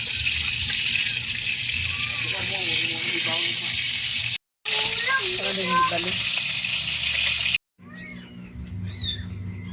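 Food frying in a pan, a steady loud sizzle that fills the clip and stops twice in brief gaps, with a voice talking over it and a short squealing call near the end.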